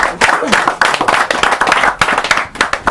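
Audience at a Paris press conference claps together, loud and close, uneven individual hand claps merging into sustained applause for a few seconds.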